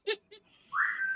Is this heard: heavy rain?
no